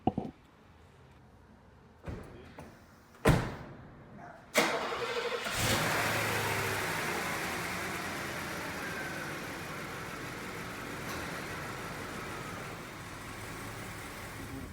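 A 1986 Mercedes-Benz 560SEL (ECE version) starts after a few sharp clunks, then settles into a steady engine hum while driving, growing slightly quieter over time, with no voices.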